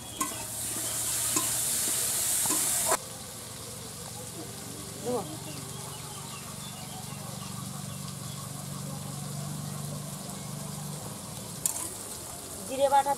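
Cumin paste and ginger paste fry in a pan, giving a soft, steady sizzle with occasional stirring clinks. A brief hiss comes at the start and a few louder knocks at the end.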